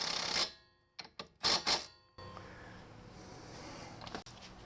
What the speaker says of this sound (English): Now we should be able to run them down with the rattle gun.